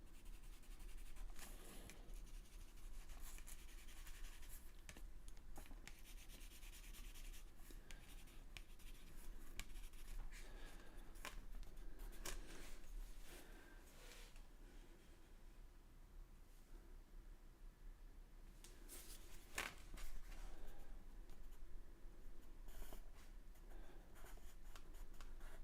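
Pencil scratching and rubbing on paper during a daily drawing practice, a steady soft scraping texture that runs almost continuously with brief pauses and occasional sharper strokes, close and quiet.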